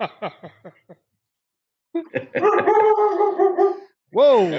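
A female dog barks in rapid bursts, then breaks into a loud, sustained howling bark with a final rising yowl, close and prominent with no speech over it.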